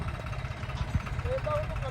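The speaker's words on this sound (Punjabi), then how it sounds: "ਅੱਜ ਟਰੈਕਟਰ ਦਾ ਡੈਮੋ ਹੋ ਰਿਹਾ ਵਾ ਤੇ ਟਰੈਕਟਰ ਹੋ ਗਏ ਇਕੱਠੇ" Tractors, including Sonalika and John Deere models, idle together at a tractor demonstration and ploughing contest, giving a steady low engine rumble beneath people talking nearby.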